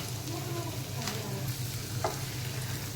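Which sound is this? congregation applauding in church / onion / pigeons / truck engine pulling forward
onion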